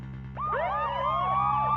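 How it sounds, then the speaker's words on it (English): Several overlapping wailing police sirens rise and sweep outside a building in the video game Ace Attorney: Spirit of Justice, starting abruptly and continuing loud over a low background hum. "Mr. Wright, there are police cars outside! Not just one or two, but a whole bunch!"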